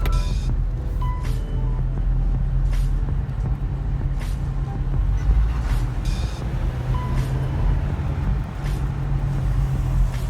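A car driving on the road after sitting unused for about ten months, with a steady low road and engine rumble throughout, occasional faint clicks and rattles inside the cabin, and no talking.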